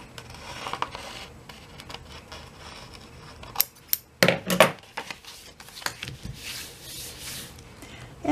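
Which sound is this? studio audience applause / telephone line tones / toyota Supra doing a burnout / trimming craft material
trimming craft material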